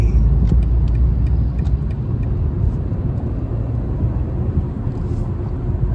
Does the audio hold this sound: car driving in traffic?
yes